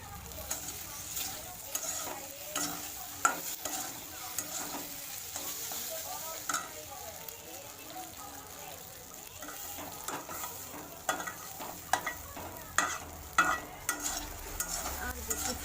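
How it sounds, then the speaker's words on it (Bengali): Maggi pasta frying in a kadai, a continuous close sizzle punctuated by frequent scraping and clinking strokes of a spoon against the pan. "অল্প একটু ফ্রাই করে নেবো, তারপরে চিজিটা তৈরি করবো"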